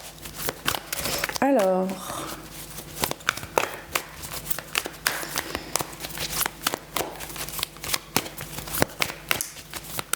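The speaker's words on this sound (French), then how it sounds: "Je vais prendre déjà une ou deux cartes de celui-là." Tarot cards are drawn and shuffled by hand, giving repeated close crisp flicks and rustling riffles in quick irregular bursts, with a brief spoken word near the start.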